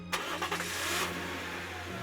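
In the video game Narcissu, a car engine starts and pulls away. A short burst is followed by a steady mid-range engine drone that holds for about two seconds, with no talking.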